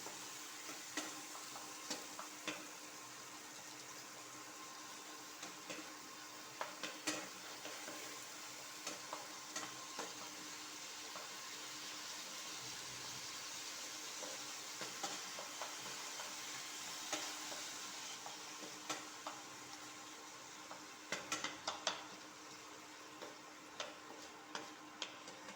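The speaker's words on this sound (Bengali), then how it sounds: "টমেটো পিউরিটা ভালোভাবে ফ্রাই করে নিতে হবে" Tomato puree frying in a pan for a home-style aloo dum, a soft steady sizzle under scattered light ticks and scrapes of stirring, with no voices.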